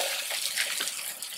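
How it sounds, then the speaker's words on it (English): Water from an outdoor shower at an Airbnb with a private pool in Merida, Mexico runs steadily as a continuous hiss and splash, close by, with no talk. "There's an outdoor shower that I know someone's gonna use."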